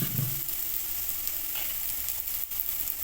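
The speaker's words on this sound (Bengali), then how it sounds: "এবার একটু ভেজে নেবো।" Spices and chopped ginger frying in oil in a pan while making cauliflower chops, a steady close sizzle with a few brief stirring scrapes and no talk.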